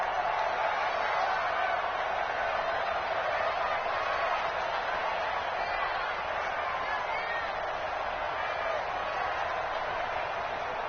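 Stadium crowd in a Madden 20 football game, a steady broad wash of cheering and murmur held at even level for the whole stretch, moderately loud and distant-sounding, no clear peaks.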